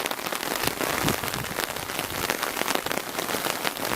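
Dense, constant rain patters and splashes close by on a garden, a heavy downpour with no pauses.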